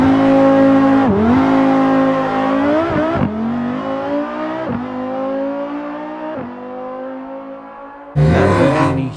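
A Lamborghini Huracan STO launches hard under launch control, its engine note climbing through several sharp gear changes with brief dips between them, then a final loud burst near the end, all close and without talk.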